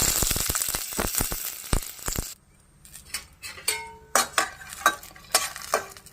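Ridge gourd peels sizzle and crackle in a hot pan with scraping stirs and clinks, a dense continuous fry at first, then softer scattered stirring taps after a pause.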